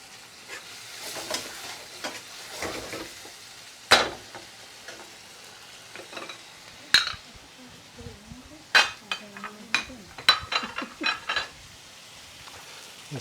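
Brinjal bhajee simmering in base gravy in a pan, a soft low bubbling sizzle broken by sharp clinks and scrapes of a utensil against the pan.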